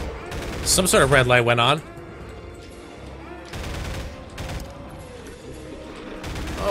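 Pulse rifle fire in the horror game Garry's Horror, heard as bursts of rapid gunfire that come and go over a low droning background, with a person talking briefly near the start.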